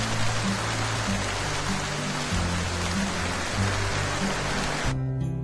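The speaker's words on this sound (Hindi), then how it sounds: "एक रात बहुत तेज बारिश हो रही थी।" Heavy rain pours steadily at night, a dense, continuous hiss of water that stays loud throughout before cutting off abruptly near the end, with a low musical drone underneath.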